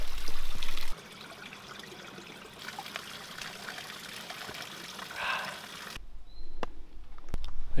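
Water trickles and splashes steadily from the Moscoso fountain on a mountain trail, a continuous close pour with brief handling noises and no speech.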